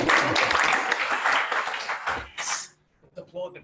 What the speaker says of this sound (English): Applaud the criminal activity in the room.